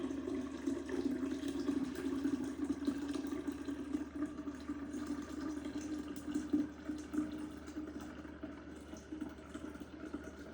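Sweetened black tea, Lipton with a cup of sugar, pours into a kombucha jar in a steady, continuous gurgling stream, close and fairly loud, with no talking.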